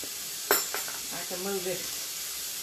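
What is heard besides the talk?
country fried steak frying in a pan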